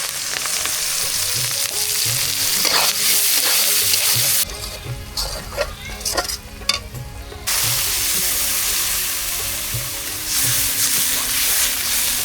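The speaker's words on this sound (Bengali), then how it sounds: "কাঁচা মরিচ পেঁয়াজ গরম মশলা সব একসাথে দিয়ে দিতেছি তেলে গরম হয়ে গেছে" Green chili, onion and garam masala frying in hot oil in a village kitchen wok, a loud continuous sizzle and crackle close by with stirring scrapes, briefly quieter in the middle before the full hiss returns.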